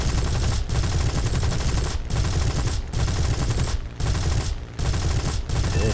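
Heavy aircraft guns fire in sustained long bursts during a War Thunder air battle, loud and close, with brief gaps between the volleys.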